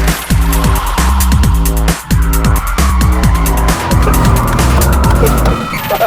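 A 2012 Chrysler 300 SRT drifts hard with lots of torque and steering angle, its engine revving in loud repeated surges over continuous tire squeal and skidding, close and intense throughout.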